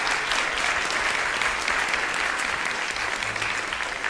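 A workshop crowd at TAM 2013 applauds after a martial arts demonstration, producing loud, dense, continuous clapping without pause for several seconds.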